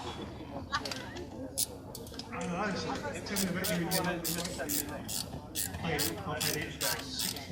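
A nylon nut is tightened onto a car gear stick, giving close clicking, ratcheting mechanical sounds under ongoing talk.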